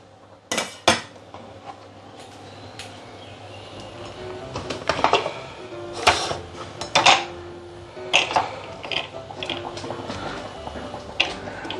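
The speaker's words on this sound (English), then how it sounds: "Let me cut the chili into half." A knife cutting a chili in half on a board in a home kitchen: several sharp knocks and clicks of the blade striking, spaced irregularly, close and clear over quiet room tone with no talk.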